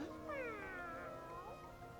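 An anime cat gives one drawn-out, wavering meow lasting over a second, with clear rising and falling tones over a steady background hum.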